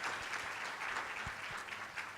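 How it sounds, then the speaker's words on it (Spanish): Applause for a doctor after a talk on Zika diagnosis, a full audience clapping steadily, faint and distant with a few low thumps underneath. "Un fuerte aplauso para la doctora Ivette."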